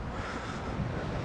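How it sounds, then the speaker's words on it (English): Steady wind buffets the microphone with a low, rumbling roar at Whitby, no voices present. "It's a bit windy"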